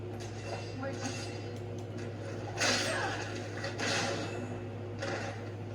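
An electric fan drones steadily underneath while several brief rustling, sliding noises come and go nearby.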